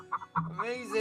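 Chicken clucks from a video game, several short bursts followed by a longer rising squawk, close and fairly clear with no talk over them.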